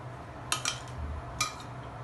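A spoon mixes salted filling for bread pockets in a bowl, giving a few light metallic scrapes and clinks in two short bursts over quiet background hum.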